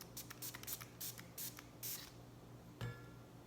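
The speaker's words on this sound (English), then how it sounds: "I'm spraying that all over the place" Shooter Lube sprayed onto a 12-gauge shotgun cleaning rod while cleaning a Mossberg 500: a quick series of short, hissing aerosol bursts at close range, followed by a single soft knock.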